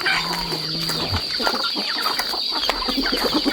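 Several chickens cluck and chatter close by beside an outdoor kitchen hut on a rural farm, with steady overlapping clucks and a constant high insect buzz in the background.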